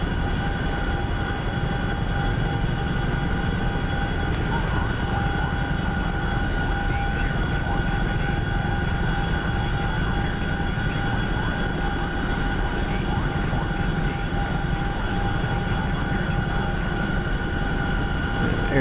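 An aircraft engine in flight in a flight video game, a constant loud droning hum with steady tonal whine, unchanging throughout.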